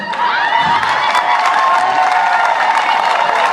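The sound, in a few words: crowd applause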